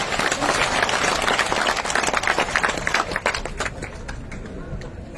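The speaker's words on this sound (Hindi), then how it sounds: "तो एक बार जोर की ताली बजा दो जो आंगो सम्मान हो जाए अपनी तरफ" A rally crowd of farmers claps loudly at a BJP political meeting to honor party leaders, dense applause that thins out gradually toward the end while people talk underneath.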